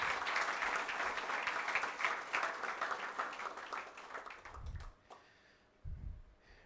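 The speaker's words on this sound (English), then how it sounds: "So let's all have a big round of applause for ourselves." Audience applause at a felicitation ceremony honoring an industrialist's doctorate: dense, steady clapping for about five seconds that fades out, followed by a few low thumps.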